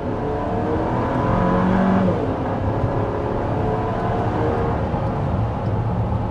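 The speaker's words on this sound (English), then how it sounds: "that was an acceleration from a complete stop, going a bit downhill" A 2024 Chevy Traverse RS or 2024 GMC Acadia Denali SUV accelerating from a complete stop while going slightly downhill, a steady loud engine drone rising in pitch, heard from inside the cabin, no talking.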